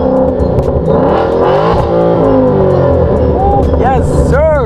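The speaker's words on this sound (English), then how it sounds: "Now let's get a few revs going on up in here." A loud 2014 Ford Mustang engine without mufflers revs up and down repeatedly, its roar rising and falling in throaty bursts, with voices talking over it.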